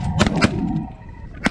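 Shotgun blasts during a thirteen-man goose hunt, two loud close reports in quick succession followed by a third a second later, with geese honking in the background.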